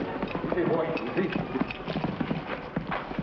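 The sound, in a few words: horse hooves clip-clopping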